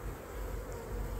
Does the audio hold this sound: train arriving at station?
no